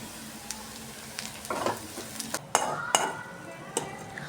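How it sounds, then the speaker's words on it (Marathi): Chopped onion, garlic cloves and green chillies frying in oil in a wok, a soft sizzle broken by scattered clinks and scrapes of a utensil stirring against the metal pan, close by. "या तेलामध्ये बारीक चिरलेला एक कांदा, 4-5 लसणाच्या पाकळ्या, 3-4 मिरच्या भाजून घेऊ."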